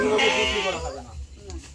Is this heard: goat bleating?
yes